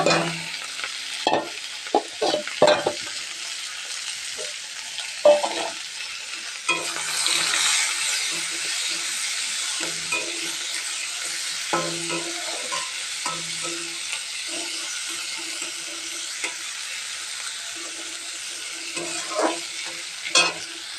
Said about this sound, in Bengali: আমার পেঁয়াজটা ভাজা হয়ে গেছে এই যে একটু লাল লাল হয়ে এসছে